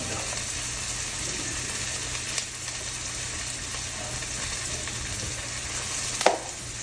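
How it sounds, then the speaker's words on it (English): Pork chops dredged in seasoned flour fry in a very hot pan, giving a steady, fairly quiet sizzle with a brief clatter near the end. "Let's get us a pork chop in that pan."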